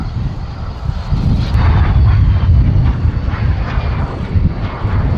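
A de Havilland Vampire FB.52 jet flies in at the Battle of Britain Air Show at Duxford, its loud, broad engine roar swelling and holding steady as it passes, with faint crowd ambience beneath.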